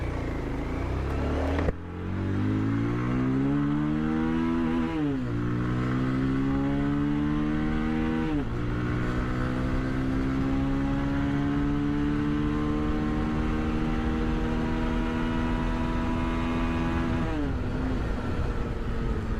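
A 2026 Bajaj Pulsar 220F motorcycle engine revs and climbs through the gears while riding, pitch rising steadily then dropping at each shift, loud and continuous with wind rush.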